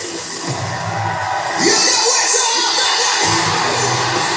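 A sold-out, capacity crowd at a wrestling event cheers, yells and whoops in a steady, loud roar that swells partway through, with faint commentary talk underneath.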